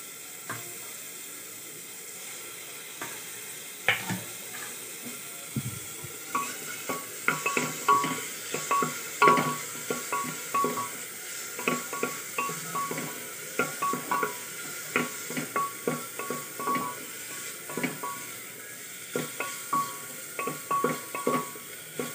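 Tomatoes and ginger-garlic paste cook in a pan for mutton biryani, a soft background sizzle broken by repeated close scraping and stirring strokes from a spoon against the pan, irregular but steady throughout.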